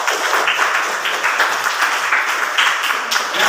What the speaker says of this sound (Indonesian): Beri aplaus atau tepuk tangan untuk teman kalian.